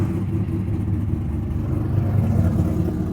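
A cammed C5 Corvette's 5.7-litre LS1 V8 rumbles loudly nearby, holding a deep, lumpy idle that builds slightly toward a rev with no one talking.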